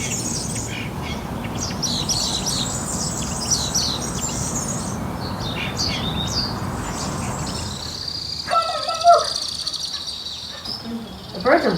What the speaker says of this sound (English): The birds are really, really out.